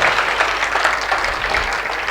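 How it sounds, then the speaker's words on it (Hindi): An audience at a Hindi kavi sammelan poetry gathering claps after a comic poem recital, a thick, continuous wash of applause that holds at an even level throughout. "तालियां बजाइए"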